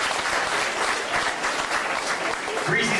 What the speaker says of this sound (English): How about another round of applause for our two great volunteers?